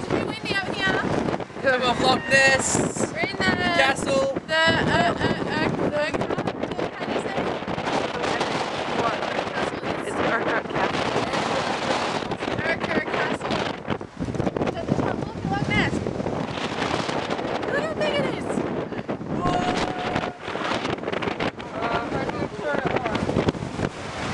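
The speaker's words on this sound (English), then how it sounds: "so windy" Strong wind in Scotland roars and buffets the microphone continuously, with voices talking over the steady gusty rush.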